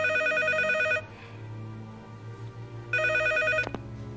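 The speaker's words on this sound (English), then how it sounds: "Then why the fuck is the phone ringing?" A telephone rings in a movie scene, two bursts of a loud electronic trilling bell separated by a short pause, then a click as the receiver is picked up.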